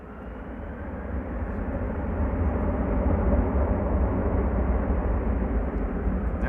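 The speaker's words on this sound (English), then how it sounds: "That's KLM Flight 537 underway to Kigali." A KLM Airbus A330-200 departs Amsterdam Schiphol for Kigali, its broad jet roar building from moderate to loud and holding steady, close by, with no voices.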